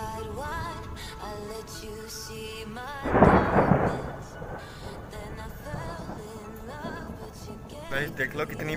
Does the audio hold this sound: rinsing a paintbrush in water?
no